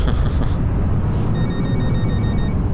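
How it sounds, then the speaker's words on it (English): A phone rings in the Fernbus Coach Simulator game aboard a VDL Futera coach, with repeated trilling bursts over a constant low engine and road rumble. "I'll answer that blimmin' phone."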